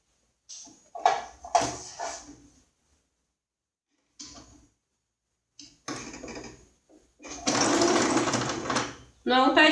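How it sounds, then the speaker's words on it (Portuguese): An electric sewing machine stitches a thin decorative seam around a fabric baby toiletry bag with a wipes holder, whirring in short bursts and then in a longer steady run, loud and close, with pauses between runs. "nós vamos rebater uma costura fininha aqui ao redor"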